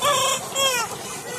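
A large farm flock of about 3,000 chickens clucks and crows close by, overlapping calls in a dense, loud chorus.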